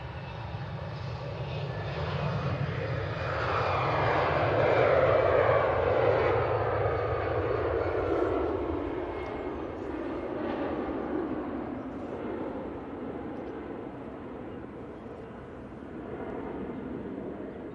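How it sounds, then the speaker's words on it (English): Virgin Atlantic Airbus A330 jet from Atlanta on final approach to Manchester Airport, a loud, steady engine roar that swells to a peak midway and then holds on as it passes overhead. "Virgin A330 from Atlanta turning on to finals"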